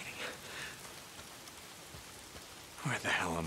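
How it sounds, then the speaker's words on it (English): Soft, steady rainfall in the video game Days Gone, a faint hiss of drops on surfaces, with a short burst of voice near the end. "Oh, damn rain. If it's not the freaks, it's the goddamn rain."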